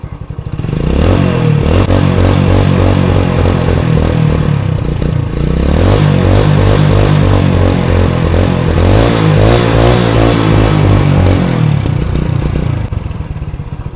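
A 2001 motorcycle with an open, unbaffled silencer runs close by, its loud engine throbbing and revving in repeated surges with a rough mechanical clatter and no talk.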